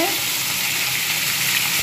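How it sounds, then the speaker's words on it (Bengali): Pomfret fish fries in a hot pan with a loud, dense, continuous sizzle that stays even from start to finish, close and with no voices over it. "তো এই যে এখানে মাছ ভাজা হচ্ছে"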